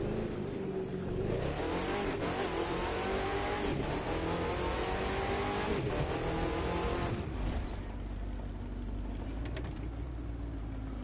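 A car in The Crew 2 racing game revs hard while driving, its engine tone climbing and dropping through gear changes in a loud, continuous, close roar with no voices.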